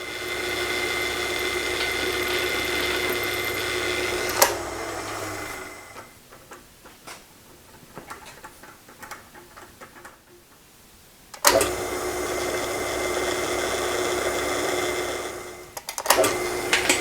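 A power drill boring set screw holes into parts for a Wimshurst machine runs in two long loud stretches, whining steadily, separated by a quieter gap of handling clatter, then starts again briefly at the end.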